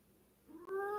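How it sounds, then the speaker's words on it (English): A pet cat gives a single short meow, rising toward the end, close by in a quiet room. "my cat really wants to be involved"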